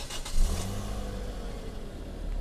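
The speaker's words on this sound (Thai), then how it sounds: "เดี๋ยวเราไปฟังเสียงเครื่องกันบ้างนะครับ" A Toyota Altis 1.6G car engine cranks and catches, briefly revving before settling into a low, smooth idle, heard up close without any talking.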